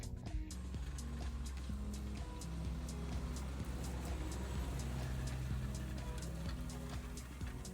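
In an open field, a tractor pulling a Rubin disc harrow rumbles at a distance, a faint, steady low engine drone with a light background hiss and no clear voices.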